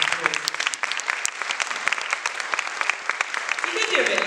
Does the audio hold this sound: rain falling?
no